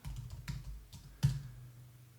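A few keystrokes land on a computer keyboard while coding JavaScript, sparse close clicks with one firmer tap near the middle, then quiet.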